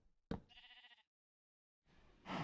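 Two Minecraft sheep bleats, a short wavering one and a louder one about a second and a half later, both close and clear with no voices.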